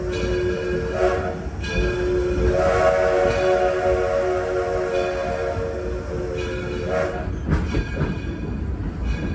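A loud steam locomotive, the oldest running one in the country, chugs steadily while its whistle sounds in several sustained blasts, close by and unaccompanied by speech.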